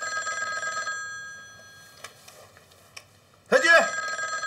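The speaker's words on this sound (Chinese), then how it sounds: "我接个电话" A telephone rings in an anti-Japanese wartime drama, one brief loud burst of bell near the end, following softer tonal background music.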